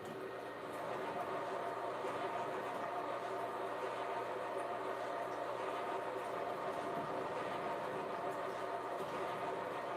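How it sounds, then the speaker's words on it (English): A $1,500 Mohawk model steam locomotive pulls a heavy freight train on a layout, giving a steady, continuous engine drone and rail rumble with a faint voice mixed in beneath. "that Mohawk, that thing makes some great engine noises"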